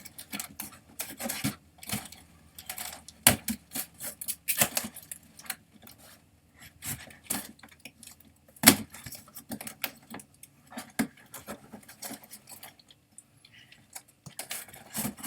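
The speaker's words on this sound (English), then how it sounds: "So let's open up this box." A cardboard box with loose, failing tape being cut open with a dull knife: irregular scratchy clicks, slices and rustles at close range, with one sharp snap partway through and no talking.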